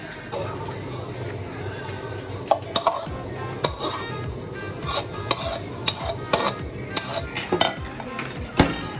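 Chicken tikka is served onto plates at home, with spoons scraping and clinking against plates and pans in irregular taps and knocks, close by, while people talk in the background.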